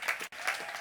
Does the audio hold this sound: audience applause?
yes